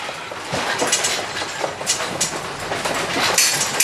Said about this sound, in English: we're going over the train tracks